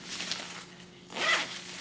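A zipper on a handmade bag is pulled open in two quick, scratchy runs, close by with nothing else heard.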